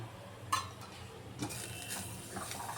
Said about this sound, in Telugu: వేసి ఆ తడి అంతా పోయే వరకు వేయించుకుందాం.